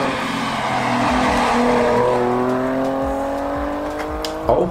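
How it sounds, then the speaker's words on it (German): A Nissan 370 Nismo sports car drives hard, its engine note climbing steadily while the tires squeal. The sound is loud and close and stays alone, with a brief sharp burst at the very end. "Nissan 370 Nismo."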